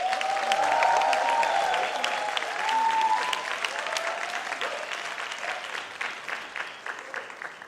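A church audience at a summer retreat evening service applauds to welcome a pastor, with dense clapping that swells, dips and then thins into scattered claps toward the end.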